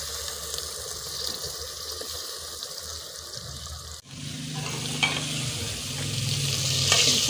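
Masala with tomatoes frying in a pan and being stirred in a village kitchen, a steady sizzle that gets busier after a short break, with scraping stirs close by and no voices.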